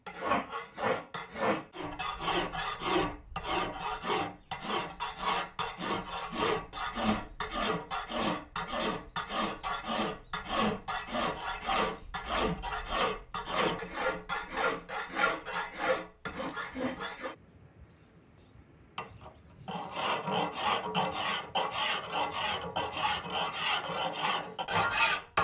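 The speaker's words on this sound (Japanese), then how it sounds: "刀身のムラを鋼を削るカンナの一種、線やヤスリを使い整えていく" A katana blade being smoothed with a steel scraping plane and file, with steady repeated rasping strokes in a close, loud rhythm for most of the span, a brief near-silent pause, then the rasping resumes.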